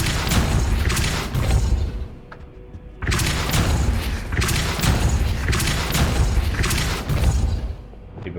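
Repeated booming blasts from the Bombarda spell in the Hogwarts Legacy video game, loud and close, several thuds with crumbling debris noise between them.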